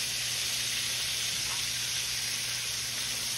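Quail frying in a pan produces a constant, even sizzle and crackle of hot fat, close and steady throughout with no talking.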